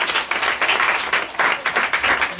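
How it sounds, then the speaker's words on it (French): Gathering at a foundation event breaks into applause, dense clapping in uneven bursts that swell and dip over a couple of seconds. "un applaudissement que tu fais là"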